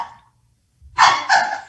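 A dog barks twice in quick succession close to the microphone during an online college board of trustees meeting, the sharp barks standing alone after a brief quiet gap.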